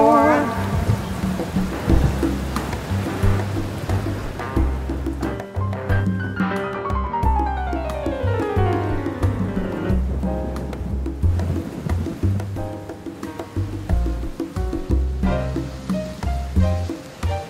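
Steady rain and rolling thunder run beneath a blues-jazz song, the storm noise mixed with music, including a descending sweep, all at a strong level throughout.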